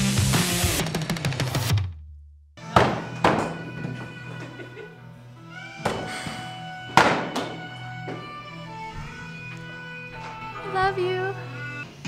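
A thrown axe thuds into a wooden target at an axe-throwing venue, several sharp solid impacts spaced seconds apart, with people talking between throws.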